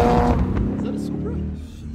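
A Toyota Supra fitted with downpipes revs loudly up close during a supercar run, its engine and exhaust roaring in a steady, rough drone with a brief squeal-like tone, and people talking over it.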